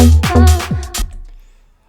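Deep house bassline programmed in Ableton Live, a full-length first note followed by shorter three-quarter-length notes: four deep, punchy synth bass notes in a steady groove, the last one ringing out and fading to near silence, with no voices.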